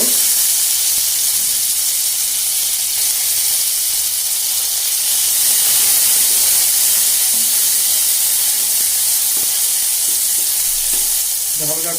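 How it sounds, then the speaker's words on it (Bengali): Tomatoes hit hot oil in a pan for a vegetarian pasta, a loud continuous sizzling hiss with occasional stirring clicks and no speech. "এবার এই তেলের মধ্যেই আমরা এই যে টমেটোগুলো দিয়ে দেবো।"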